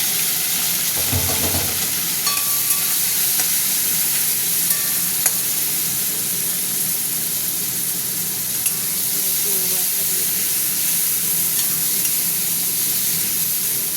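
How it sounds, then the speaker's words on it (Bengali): Prawns fry with browned onions in a pan, giving a steady, loud, hissing sizzle that runs unbroken throughout, with a few soft stirring scrapes and clinks near the start. "পেঁয়াজটা ভাজা ভাজা হয়ে গেছে, চিংড়ি মাছটা দিয়ে দিলাম"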